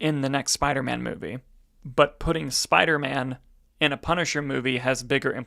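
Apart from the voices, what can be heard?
No everyday noise stands out behind the speech.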